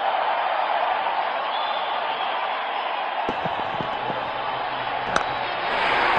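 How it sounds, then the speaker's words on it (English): Constant roar of a stadium crowd in the cricket video game Real Cricket 18, a steady broadband wash of cheering with a few sharp knocks and brief thuds near the middle. "Crowd going mad here."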